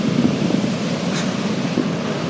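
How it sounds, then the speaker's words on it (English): Ocean waves crash and churn on Iceland's southern coast, a steady loud roar of surf with wind buffeting the microphone, continuous and close with no voices. "And those waves are intimidating."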